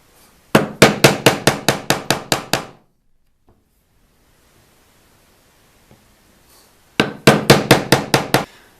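Mallet strikes on a chisel cutting out wood for a gun wall mount, two bursts of rapid evenly spaced sharp knocks, about a dozen then eight, separated by a quiet pause, close and loud.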